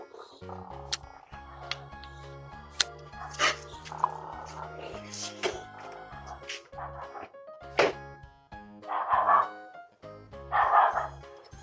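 A dog outside a front door, caught on a doorbell camera as its owner comes face to face with a raccoon, gives scattered barks, yips and whimpers among thumps and other commotion at moderate distance.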